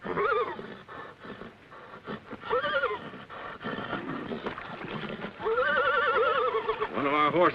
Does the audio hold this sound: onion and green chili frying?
no